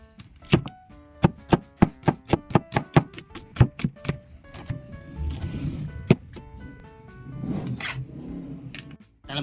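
Onion being chopped on a board, with a brisk run of about a dozen sharp knife strikes followed by slower scraping and rustling, close up, with no talk.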